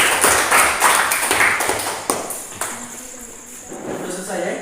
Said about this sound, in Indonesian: Mari kita berikan aplaus kepada kelompok.